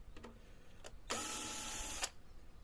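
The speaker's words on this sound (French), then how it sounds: "on va le visser avant, comme il y aura plus de bois" A power screwdriver drives a screw into the wood of a beehive box, with two short whirring bursts followed by a longer, louder buzz of roughly one second, heard up close in a quiet room.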